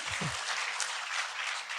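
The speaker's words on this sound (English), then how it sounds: "Can you give me some applause on that?" Live audience at an art history podcast recording applauds in a steady wash of clapping, following a brief low voice at the start.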